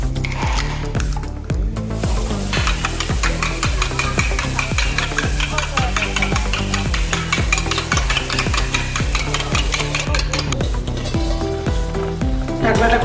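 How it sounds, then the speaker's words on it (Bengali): An egg is beaten in a bowl for chicken soup with fast, steady whisking strokes that tick in a regular rhythm throughout, close and moderately loud over soft background music. "একটা ডিম আমি বাটির মধ্যে নিয়ে ভালো করে ফেটিয়ে নেব"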